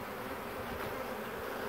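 Honey bees buzz around an open hive outdoors, a dense continuous drone of many insects close by, steady and fairly quiet with no voices.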